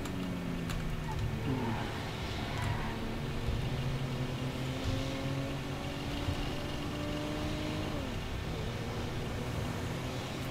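A car engine in the video game GTA 5 drones and shifts in pitch under a steady layer of road and traffic noise, holding a continuous mid-level tone throughout.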